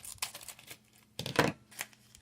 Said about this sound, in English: I'm going to have to cut this with the scissors.